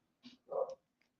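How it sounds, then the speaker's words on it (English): A dog gives two short barks, a quick yap followed by a louder, fuller bark, heard faintly at moderate distance with a small click after. "the dogs are barking"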